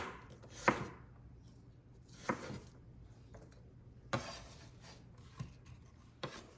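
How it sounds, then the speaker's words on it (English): An apple being chopped into small pieces, five or six separate knife strokes through the fruit onto a board, quiet and close with pauses between cuts. "You will want to chop the apple into fairly small pieces"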